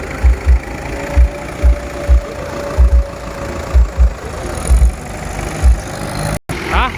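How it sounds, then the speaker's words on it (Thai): A diesel tractor engine idling nearby with a steady low rumble and a regular thumping pulse, loud and continuous. "ขับรถไถครับเนี่ย"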